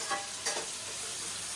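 Ingredients for mushroom fried rice fry in a pan with a faint, soft sizzle and a couple of brief stirring scrapes, heard alone without talk.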